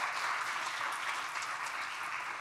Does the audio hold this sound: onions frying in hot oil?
no